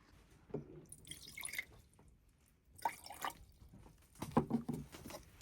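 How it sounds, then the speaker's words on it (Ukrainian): Water poured from a container into a Fitosporin solution being mixed for treating garden soil, a few short bursts of splashing and dripping, close and fairly quiet, with pauses between pours. "І додаю 100 мілілітрів води."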